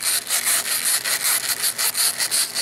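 Plasti Dip is scraped off a Miata car wheel in rapid, rhythmic back-and-forth strokes, a loud close rasping scrape repeating about every quarter second.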